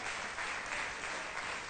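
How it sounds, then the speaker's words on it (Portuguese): Steady applause from a church congregation fills the room, continuous and fairly loud, with no voices over it. "Aplauda o Senhor com alegria no seu coração."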